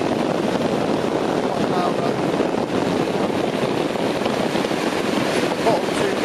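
Electric fans roar in high speed mode with a loud, steady, hairdryer-like rush of air that holds constant and close throughout.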